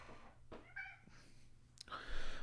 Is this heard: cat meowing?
yes